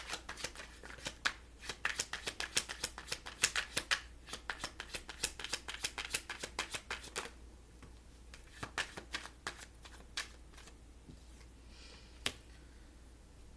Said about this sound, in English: I'm going to pull one card from the Angels of Abundance for this.